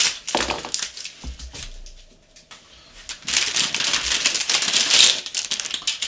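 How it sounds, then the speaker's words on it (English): Plastic bags of model kit parts for a Zvezda 1/72 Su-57 being handled, crisp crinkling and rustling in close, uneven bursts with a brief quieter pause midway. "So big old crinkly bags."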